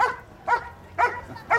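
A police dog barks in four short, evenly spaced bursts during a suspect-apprehension demonstration at an outdoor event, fairly close and loud with quiet gaps between barks.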